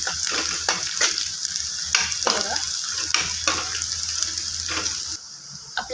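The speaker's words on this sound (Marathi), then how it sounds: "आपण घालणार आहे एक चमचा जिरे ते पण छान परतवून घ्यायचे" Mustard seeds and cumin sauté in a pan for a chana dal palak dish. A constant close sizzle runs under regular scraping strokes of a spoon, repeating about once a second.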